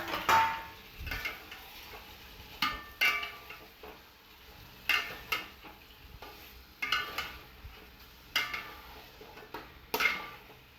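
Chicken and fried potatoes are being stir-fried for biryani: a spoon scrapes and clinks against the pan in an irregular rhythm over a soft continuous sizzle, close and fairly quiet.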